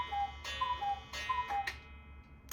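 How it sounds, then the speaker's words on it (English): Cuckoo clock ticking with steady, close, clear mechanical clicks roughly every half second, a faint tonal ring beneath, heard alone in a quiet room. "And there was the cuckoo clock."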